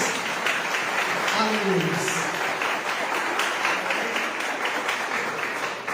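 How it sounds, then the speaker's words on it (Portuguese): Applause from a church congregation during a worship service, a sustained broadband clatter of clapping that fills the whole clip, mixed with voices calling out. "Dê uma salva de palmas para Jesus."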